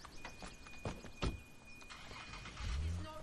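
Car engine starting in the video game Sleeping Dogs, a short cranking burst followed by a low rumbling idle that swells toward the end, with game ambience around it.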